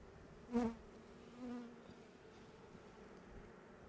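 Honeybees buzz faintly nearby around hives, with one louder swell as an insect passes close, then a low steady drone in a quiet outdoor setting.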